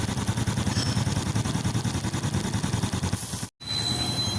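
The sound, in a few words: Yamaha Sight motorcycle engine running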